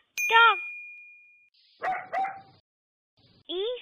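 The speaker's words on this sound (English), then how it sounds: "D for dog." A cartoon-style dog gives a few short, close barks after a bright ding and a sustained tone.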